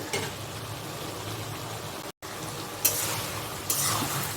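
A mola fish curry with mixed vegetables is stirred as it fries and bubbles in a pan over a gas flame, with a steady close sizzle and a few brief scraping stirs.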